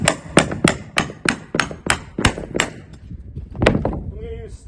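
A hammer taps a jack lift point into a framed wall with sheathing, eight or nine sharp, evenly spaced knocks ringing close and loud, followed by a brief pause and one more strike.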